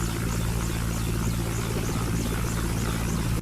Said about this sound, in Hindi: ऐसे में हेलीकॉप्टर द्वारा राहत सामग्री पहुंचाई जा रही है।